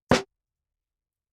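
One short, punchy hit of a layered snare and clap drum sample played together, a single dry crack that stops abruptly and is followed by silence.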